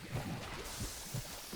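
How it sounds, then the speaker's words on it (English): A heartbeat sound effect from StarCraft II: Heart of the Swarm plays as soft, low, muffled thumps. About three beats come at an uneven pace and sit faintly under quiet background noise. "The heartbeat sound effect"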